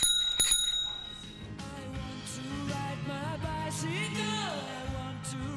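An old bicycle bell, a vintage bike part with its inner components still rust-free and working, rings in a few bright, quick strikes at the start, then fades as other sounds carry on without talk.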